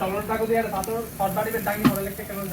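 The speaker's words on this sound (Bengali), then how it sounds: "এই যে সুন্দরভাবে প্রত্যেকটা গোস্তের টুকরা উল্টিয়ে দেওয়া হচ্ছে" Pieces of barbecue meat sizzle steadily as they are flipped one by one, with soft hiss and small clinks from the turning, while a voice talks over the cooking.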